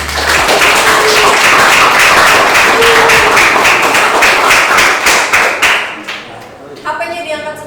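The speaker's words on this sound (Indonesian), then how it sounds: "Beri tepuk tangan lagi." Applause from a classroom audience, a dense steady patter of many hands clapping for several seconds before thinning out, with a voice coming in at the end.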